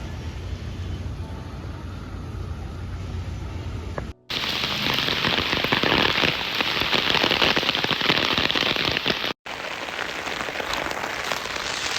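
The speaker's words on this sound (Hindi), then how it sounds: "बैंगलोर में भरी बारिश में यूं भागना, वो भी अकेले अकेले।" Heavy rain pours down in Bangalore, a dense, steady hiss of drops pattering on surfaces, loud and close, broken by two brief cuts, with the downpour growing heavier after the first.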